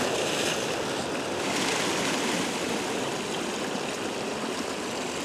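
Water flows over sharp rocks at sunrise, a continuous, even rush close by with no breaks and no voices.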